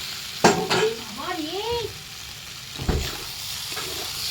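Fried potato and pointed gourd get stirred through masala in a pan for a hilsa curry, with a low sizzle, a couple of clanking spatula strikes and a faint voice briefly audible in the background.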